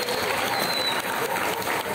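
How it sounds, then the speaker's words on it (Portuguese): Applause at a capoeira batizado and graduation ceremony, a steady crowd clapping continuously for two seconds at close range with no voices over it. "Uma salva de palmas"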